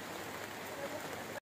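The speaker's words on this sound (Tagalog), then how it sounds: "Ang seryoso na ang ulan" Heavy rain pours down steadily outdoors among ferns and bamboo, a dense, constant hiss of drops on leaves and ground that stops abruptly.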